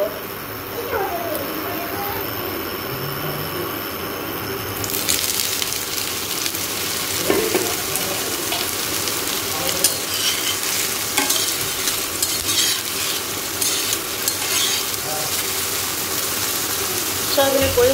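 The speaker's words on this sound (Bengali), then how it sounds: "এদিকে কড়া বসিয়ে দিয়েছি, তরকারি বসাবো। একটু তেল দিয়ে দিচ্ছি।" Vegetable curry frying in a little soybean oil in a wok, giving a close, steady hiss and sizzle with occasional stirring scrapes, starting after a few quiet seconds and continuing throughout.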